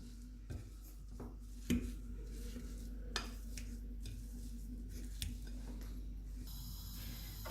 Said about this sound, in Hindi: अभी इन सारी चीज़ों को हम अच्छे से मिक्स कर लेंगे।